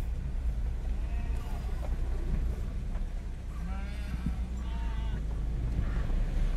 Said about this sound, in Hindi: भेड़ है भाई ये भेड़ देखो कितनी सारी